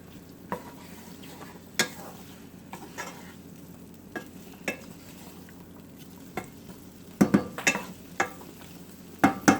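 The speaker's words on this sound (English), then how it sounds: "So we're just going to saute it a little bit in there." Chicken seasoned with curry powder and mustard powder sautés in a pan under a soft background sizzle, broken by sharp utensil scrapes and taps that grow more frequent toward the end.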